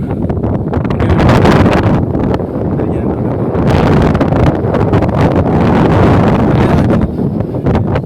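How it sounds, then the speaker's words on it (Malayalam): Strong wind roars and buffets the microphone in loud gusts throughout. "അത്രയ്ക്ക് നല്ല കാറ്റ് ഉണ്ടോ"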